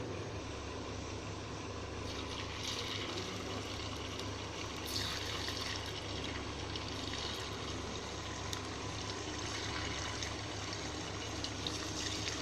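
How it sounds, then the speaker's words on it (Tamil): Marinated chicken deep-frying in hot oil in a kadai, a steady, even hiss and sizzle of bubbling oil throughout, with no talk. "இப்போ நம்ம வந்து ஆயிலை போட்டு ஃப்ரை பண்ணி எடுத்துக்கலாம்."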